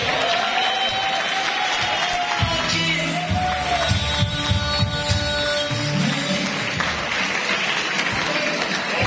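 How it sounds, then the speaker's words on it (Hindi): Loud applause from a conference audience at the Connected Pakistan conference at the University of South Asia in Lahore, steady crowd clapping filling the whole stretch, with faint scattered voices mixed in. "इसके लिए तालियां हो जाओ जोर से।"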